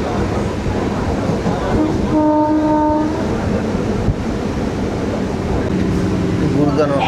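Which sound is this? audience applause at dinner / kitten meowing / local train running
local train running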